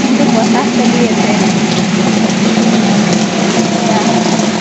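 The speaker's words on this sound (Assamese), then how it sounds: "দেখিছে ইমান বৰষুণ।" Heavy rain in Assam pours steadily and loudly throughout, a dense continuous wash with wind, close to the microphone.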